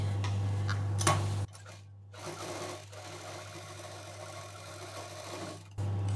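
A household sewing machine stitches lace onto a sling bag, its close humming motor and rapid ticking needle running in bursts broken by brief quiet pauses and soft handling rubs.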